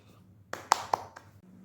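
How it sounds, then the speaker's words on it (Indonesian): In an elementary-school class, a handful of sharp, close hand claps ring out unevenly, about four or five in a short burst after a quiet start, with faint background murmur. "tepuk tangan dulu"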